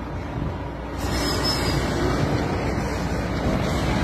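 Steady outdoor wind rushing past the microphone, a continuous low roar that swells after the first second and stays loud and unbroken, with no voices.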